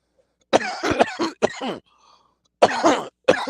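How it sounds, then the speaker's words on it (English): A close, raspy fit of smoker's coughing comes in rough bursts, a pause, then two more hacking coughs. "I'm coughing because I'm smoking this sharp shit."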